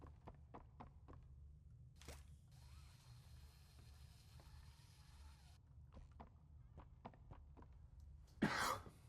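Someone coughing in a quiet room while playing a horror video game, one short cough sound among soft clicks and taps, with a louder burst near the end.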